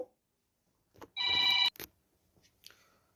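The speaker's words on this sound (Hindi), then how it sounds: "दूसरे फोन पे फोन आ गया था, इस वजह से मुझे थोड़ी देर के लिए जाना पड़ा" A telephone rings during an Islamic Quran-commentary lecture, a single short electronic ring burst of about half a second in an otherwise quiet room, followed by faint rustling.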